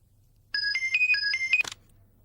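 A phone ringtone sounds for an incoming call, a bright electronic melody of several quick repeated beeps lasting about a second, loud and clean against a quiet background, ending abruptly.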